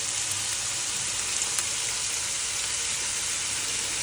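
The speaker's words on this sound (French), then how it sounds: "Je remue un peu le riz." Rice and bacon lardons frying together in a pan, a constant close hiss of sizzling fat that stays even throughout, with no voices.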